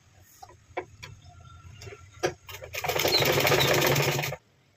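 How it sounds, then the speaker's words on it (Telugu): Electric sewing machine running a continuous line of stitches around a blouse, a loud steady whirring burst of about a second and a half after a few scattered clicks and taps. "ఇప్పుడు చుట్టూ లైన్ స్టిచ్ చేసుకుంటాం"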